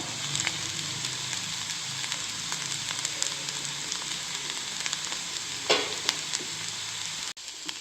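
Onion frying in a pan for a Kerala-style potato thoran, giving a dense, steady sizzle at close range with a few stirring scrapes and a brief louder clatter near the end.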